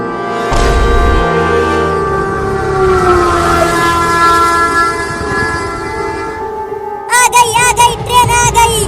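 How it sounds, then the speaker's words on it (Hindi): A train approaches through a forest with a long, loud blaring horn held for several seconds over rumbling wheels, then rapid clattering of passing cars takes over, close and powerful. "आ गई ट्रेन, आ गई ट्रेन, आ गई।"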